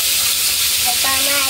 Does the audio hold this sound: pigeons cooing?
no